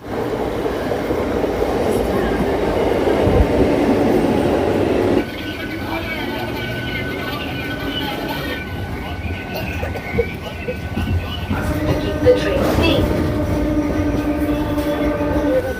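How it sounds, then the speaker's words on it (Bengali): Medinipur local train pulling into Santragachi station, a loud steady rumble of wheels and carriages that drops in level partway through, with faint station ambience and brief higher tones near the end. "ট্রেন এখন ঢুকছে আমাদের সাঁতরাগাছি স্টেশনে"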